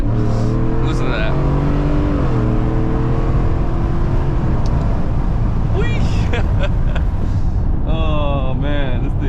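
Ford F-150 with a 5.0 V8 revving while driving in morning traffic, a deep steady engine drone with rising and falling rev sweeps, heard from inside the cab alongside road noise.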